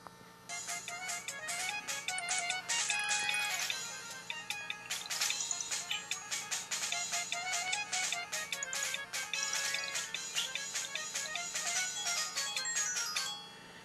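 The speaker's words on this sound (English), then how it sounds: "That was the game's theme." Theme music from Mini Game Planet, a Java cellphone game made by Com2uS, playing on an LG phone: a bright, busy electronic melody of rapid beeping notes that runs steadily and loud throughout.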